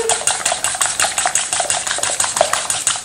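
A teaspoon stirs thick crème fraîche in a bowl, making quick, steady metallic scrapes and clinks in a brisk repeating rhythm, close up and fairly loud, with no talking.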